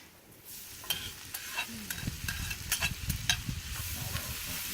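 Hominy and bacon sizzling and crackling in a pan, with scattered clinks and scraping from stirring throughout; no voices.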